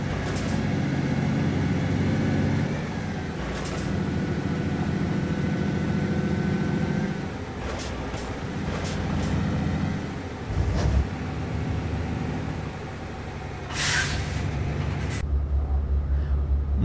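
A Volvo VNL truck's engine in American Truck Simulator drones low and steady throughout, with shifting gear-like tonal changes and a brief airy hiss near the end.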